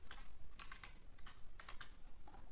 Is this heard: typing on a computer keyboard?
yes